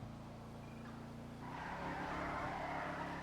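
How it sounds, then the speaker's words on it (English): A car engine idles with a low steady hum, then revs up to a louder, rougher drone that holds for the rest of the moment. "Hear that engine sound?"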